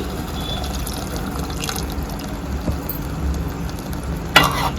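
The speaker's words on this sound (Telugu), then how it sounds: "ఈ వాటర్ కూడా యాడ్ చేసేద్దాం. చేసేసి ఆ వాటర్తో ఉడకనిచ్చేసేద్దాం." Masala-grinding water is poured into a pan of mutton and cucumber curry, producing a steady watery sizzle and gurgle at close range, ending with a brief clatter.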